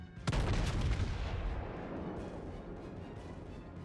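Warship guns firing in World of Warships: a single loud, close blast that sets off a broad rumbling roar, slowly fading away over a few seconds, with no talking.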